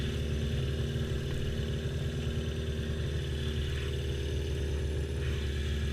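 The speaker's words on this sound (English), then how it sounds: "I'm sure you can tell in this video, my exhaust is kind of loud." A motorcycle with a loud dual-outlet exhaust idles close by, its low pulsing rumble steady and unbroken for the full six seconds with no talk over it.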